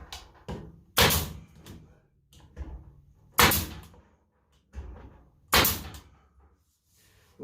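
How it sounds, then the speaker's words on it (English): Brad nailer shooting brads through a 1x4 into a wooden farmhouse stove cover: several sharp, loud pneumatic bangs spaced a second or two apart, close by, with quieter handling knocks between them. "I'm just gonna go ahead, shoot a few more brads in here."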